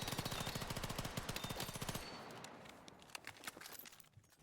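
A machine gun hip-fired in the shooter game Battlefield 6 lets off a fast, steady rattling burst for about two seconds, then a few scattered shots trail off.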